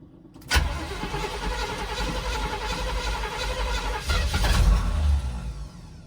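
A square-body truck engine cranks and fires at close range on a cold 40-degree day, starting with a sharp catch and settling into a rough, uneven idle that swells louder toward the end.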